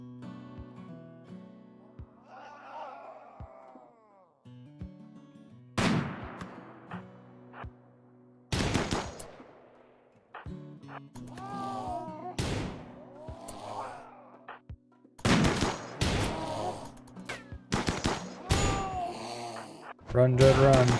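Gunfire rings out in a video game as enemies, including man-hunting panthers, are shot. Sharp, loud single shots and clusters of shots break through ongoing talk and quieter game sounds.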